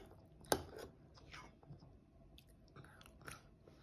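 Soft, wet chewing and biting sounds repeat quietly up close, with a sharp crunch early on and faint background noise.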